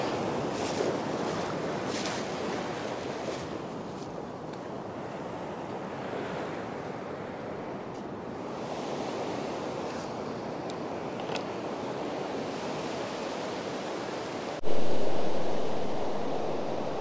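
Ocean surf rolls and breaks continuously at Inverloch Surf Beach at high tide, with gusty wind buffeting the microphone; near the end a louder wave surges in, with no one speaking.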